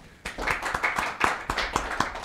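Slow, distinct hand claps from a small group, about a dozen sharp beats in an uneven rhythm, close and fairly loud, with no talking over them.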